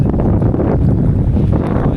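Strong wind on the beach at Vizag roars steadily and loudly across the microphone in a continuous, buffeting rush, with no clear voices.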